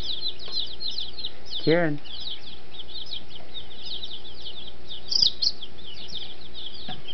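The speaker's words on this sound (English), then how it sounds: "Your baby chickens" Steady high-pitched cheeping from a cluster of small chicks runs throughout, with a short voice calling out partway through.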